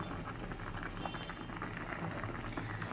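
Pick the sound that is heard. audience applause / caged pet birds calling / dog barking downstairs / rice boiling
rice boiling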